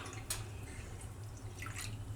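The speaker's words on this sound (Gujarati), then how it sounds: "તો દોઢ વાટકા જેટલું આપણે પાણી નાખ્યું" Water poured into a pot of cooking mango gives faint, sparse drips and light splashes over a low steady background hum.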